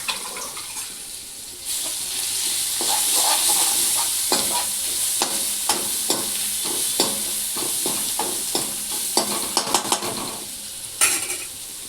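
Curry leaves, garlic, chili paste and asafoetida fry in a pan, a bright steady sizzle with repeated spoon clinks and stirring scrapes close by.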